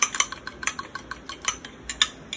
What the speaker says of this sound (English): I'll give another quick stir.